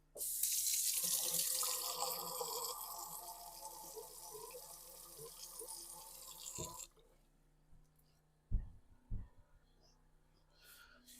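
Canned tomatoes drain into a kitchen sink while cooking spaghetti meat sauce: a steady, close gush of water and liquid splashes for about seven seconds. It then stops, leaving a few faint clunks and drips.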